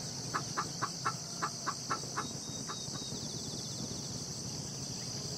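A hen clucks in a quick series of about eight short, evenly spaced calls in a barnyard, then falls quiet, with a constant shrill insect drone in the background throughout.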